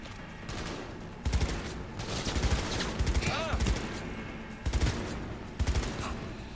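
Gunfire in the video game Cyberpunk 2077, repeated rapid bursts of shots in irregular clusters over a busy game soundscape.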